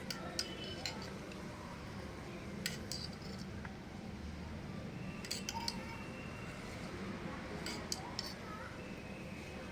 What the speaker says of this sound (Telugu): ఇప్పుడు ఈ చక్కెర కరిగే వరకు ఈ పాలను కలుపుకోవాలి